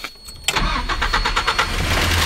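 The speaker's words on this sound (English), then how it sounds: "Now we're going to start the vehicle and warm up to the operating temperature." Mazda B2600i pickup engine starting: a brief starter crank kicks into a rough, rhythmic idle that settles into a steady running rumble, close and loud.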